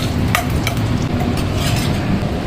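Mustard seeds, fenugreek and curry leaves crackle in hot oil for a tadka, a dense steady sizzle with a few sharp pops and a spoon clink, close and fairly loud, no talking.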